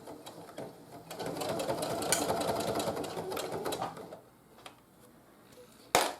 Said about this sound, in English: I'm going to sew all the way around until I get to a corner